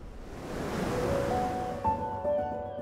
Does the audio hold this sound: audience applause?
no